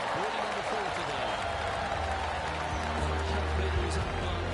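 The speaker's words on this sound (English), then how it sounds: "That deserves a golf clap." Polite golf applause from a gallery greets a birdie at the 11th hole of a PGA event, a steady wash of clapping under a commentator's voice.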